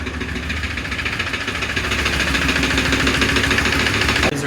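A project car engine with a stuck valve runs loud and close, a rough continuous idle with a knocking, vibrating pulse, ending with a brief click near the end.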